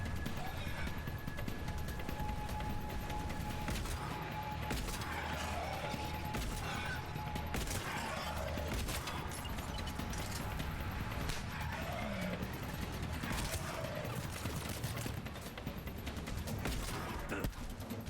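Firefight in Mass Effect 3 with scattered gunshots and bursts over constant loud battle noise throughout, with a steady tone running through the first half.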